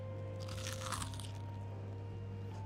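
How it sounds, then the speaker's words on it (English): Close, crisp crunching as a chicken nugget is bitten, a short burst of crackly bites around the first second over a steady low hum, then quiet chewing. "You hear the crunch, right?"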